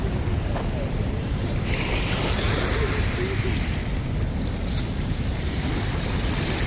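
Surf at high tide rolls onto Dolomite Beach on Manila Bay in a steady, loud roar, with wind buffeting the microphone throughout.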